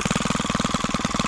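An old Stihl combi tool with a 12-inch pole saw head, its small two-stroke engine running close by in a fast, even, pulsing buzz that stays loud and steady throughout.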